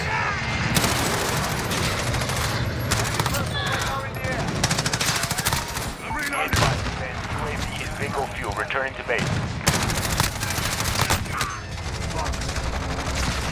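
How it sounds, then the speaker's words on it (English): Dense automatic gunfire from Call of Duty Modern Warfare, with an MP5 submachine gun among the weapons, rattles almost without pause through a chaotic multiplayer firefight, loud and close, with explosive booms and some voices mixed in. "Whoever is in there, stop shooting me!"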